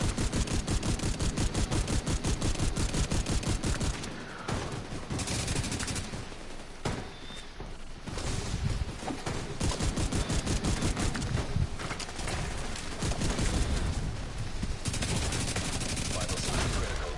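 Gunfire in the video game The Division 2 hammers in long, rapid automatic bursts, loud and nearly continuous, with brief lulls between strings of shots and occasional voice chatter.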